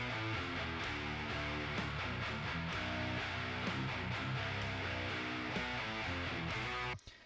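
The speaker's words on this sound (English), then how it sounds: "I send them here, and then I distort them" Drums, bass and guitars run through a heavy distortion bus in Logic Pro X for heavy music, giving a dense, saturated wall of pounding hits and thick chords that cuts off abruptly near the end.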